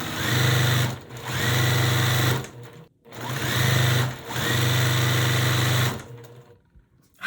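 A sewing machine stitches quilt block pieces for a Carpenter Star barn star sampler, running in steady close-up whirring bursts with short stops between seams, no talking.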